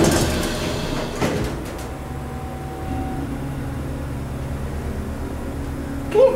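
Vintage 1960s O'Keefe hydraulic oil elevator door at a music shop sliding along its track with a rumbling, rattling run, a clunk near the start and a louder bump as it closes at the end; no talking.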